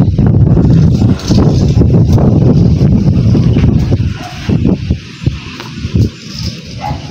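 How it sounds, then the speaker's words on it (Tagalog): Strong wind on a rooftop buffets the microphone in loud, rumbling gusts that ease off partway through, leaving gentler blustering. "Mahangin dito sa taas."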